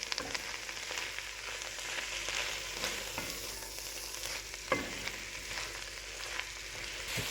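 Beaten eggs are stirred and fried in a pan for egg fried rice, with soft spatula scrapes and a constant gentle sizzle, fairly quiet and close, with no one talking.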